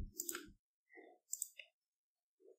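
A handful of soft, quiet computer mouse clicks, spaced unevenly over a couple of seconds, with no voices.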